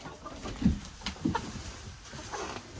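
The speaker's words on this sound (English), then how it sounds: "Happy New Year, chickens." Chickens in a coop give a few short clucks and soft calls over a steady low background, close by and fairly quiet, with no speech.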